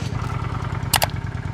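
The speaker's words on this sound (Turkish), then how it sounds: "Orijinal stock egzoz. Şu şekilde gidiyor." A motorcycle on its original stock exhaust rides along on the road in Turkey, its steady mid-pitched engine drone close and constant, with two brief sharp clattering bursts near the end.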